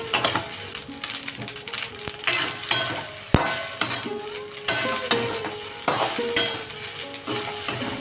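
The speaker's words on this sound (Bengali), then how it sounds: "এইবার সবকটা উপকরণ ভালো করে আমি মিক্স করে নেব।" Turmeric, salt and sugar are stirred in a pan for pulao, making repeated scraping strokes in a steady rhythm over a continuous sizzle, close and fairly loud.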